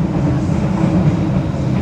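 Kamandaka economy-class train on the Semarang to Purwokerto route running on rails along a winding stretch, a loud continuous rumble heard from inside the carriage with a steady low drone and faint rattling.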